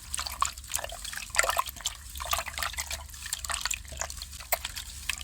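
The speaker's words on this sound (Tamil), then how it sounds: "தக்காளி, புளி, மிளகாத்தூள், உப்பு மொத்தம் சேர்த்து நல்லா கரைச்சிக்கணும்." Tomato, tamarind, chili powder and salt being stirred and dissolved into water for a village-style jilebi fish kulambu, giving steady wet sloshing and dripping liquid sounds with soft repeated splashes, close and continuous throughout.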